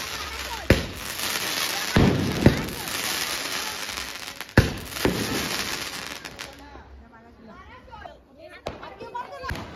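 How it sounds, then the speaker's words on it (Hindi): Diwali firecrackers burst in sharp, loud cracks and bangs at a home celebration, several sudden pops spread across the clip with crackling in between, while people chatter in the background. "और यहाँ पटाखे भी फूटना स्टार्ट हो गए हैं।"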